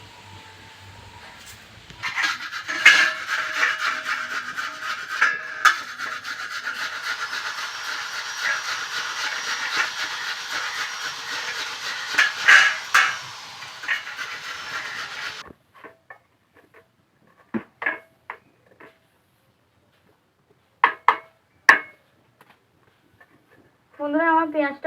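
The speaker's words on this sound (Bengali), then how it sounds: "বন্ধুরা, আমার পেঁয়াজটা ভালো করে আমি গ্রেট করে নিয়েছি।" An onion rubs against a grater in quick scraping strokes for about fifteen seconds, close and moderately loud, followed by a few scattered knocks and taps, with a voice speaking briefly near the end.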